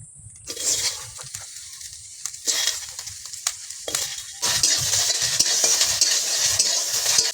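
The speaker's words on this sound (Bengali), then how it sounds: "এবার এই শুকনো কড়ায় কিছুটা কুচে রাখা টমেটো দেব।" Chopped tomato is stirred and cooked in a dry kadai with no oil, giving close scraping stirs and a soft sizzle that swell into a steadier, louder hiss in the last few seconds, with no talking.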